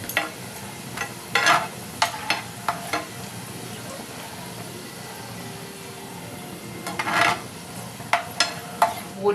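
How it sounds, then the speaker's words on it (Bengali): Bori lentil dumplings frying in a pan of oil, a steady low sizzle broken by several bursts of stirring and scraping, close by with no talk. "এখানে বড়িগুলোকে আরেকটু ভেজে নেব"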